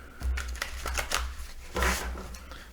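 Oracle cards are shuffled during a tarot reading, giving soft papery riffles and flutters in a few bursts over a low steady hum, close and fairly quiet with no talk.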